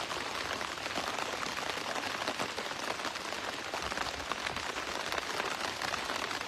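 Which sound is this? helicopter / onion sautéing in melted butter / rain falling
rain falling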